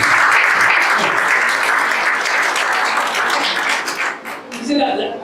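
A church congregation gives a loud, sustained round of applause to the Lord during a Spanish-language class, dense clapping that fades out near the end as a voice begins.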